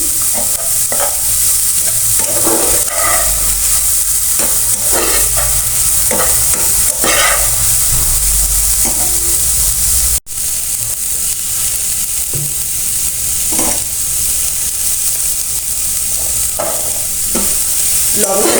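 Chopped long beans and carrot frying in a pan while being stirred, a loud continuous sizzle with repeated scraping strokes of the spoon, close and uninterrupted by talk.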